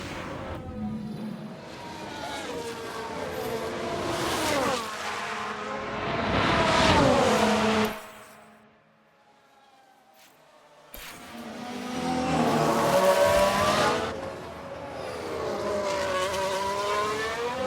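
Formula One race cars in F1 Manager 2022 roar loudly and rise and fall in pitch as they pass, with a brief near-silent gap midway before engines surge back in.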